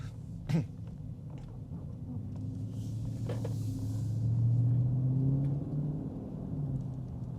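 A Dodge Charger Scat Pack Widebody engine rumbles low and steady during a drive in Las Vegas, swelling to a deeper throaty drone midway before easing slightly, with a brief knock near the start.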